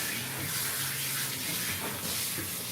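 Water runs steadily from a tap during a British Shorthair cat's bath, a loud, constant rushing and splashing that fills the whole stretch, with no talk.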